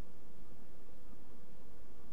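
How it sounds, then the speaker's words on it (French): Steady, low buzzing of honeybees at an open hive, a continuous hum that stays even throughout, with no voices. "J'ai vu des naissances, les abeilles sont belles."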